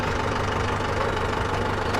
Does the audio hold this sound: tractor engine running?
yes